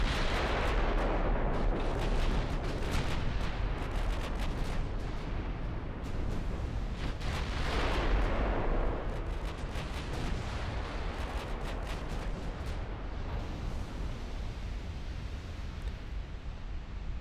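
Battleship naval guns fire nonstop in a 1963-era naval warfare strategy game, a dense, loud rumble of booming salvos and crackling blasts that stays heavy throughout with no talking.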